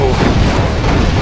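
Rocket explosions blast in a co-op game of Doom 2 with the Brutal mod, a loud, dense rumbling boom filling the whole short stretch, with no clear voices.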